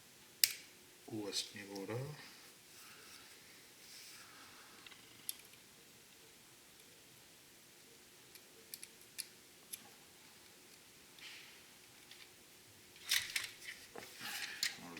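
Scissors snip through a seatbelt strap cut at an angle, a few sharp close clicks and crunches scattered among quiet pauses, with brief speech in between.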